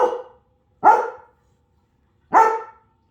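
A pet dog barks at turkeys outside, three loud, sharp barks close by, spaced apart with silence between them.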